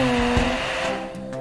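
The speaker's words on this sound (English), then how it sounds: "Finally, a dryer to finish it off." A dryer at a cartoon car wash blows air in a loud, steady whirring hum with a faint tonal whine, continuous throughout.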